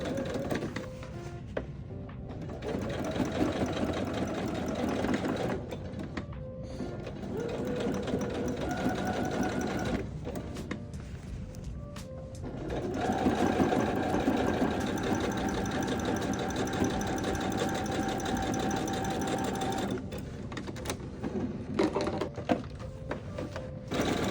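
A sewing machine runs in long continuous bursts while top stitching seams on denim patchwork, a fast, even mechanical whir that stops briefly a few times between passes.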